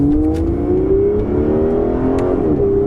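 An Aston Martin Vanquish accelerates at partial throttle, its engine note climbing in a smooth, loud, close drone that rises steadily in pitch with a brief dip as the gear changes, heard alone with no talk.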